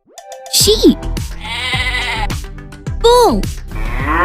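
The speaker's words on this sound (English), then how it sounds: "Sheep." Sheep bleat loudly and close in a farm-animal animation, several wavering baa calls in a row with barely any gap between them.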